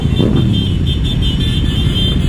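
A Yamaha R1 sport motorcycle engine roars loudly and steadily close by, a sustained dense rumble with a high-pitched tone on top.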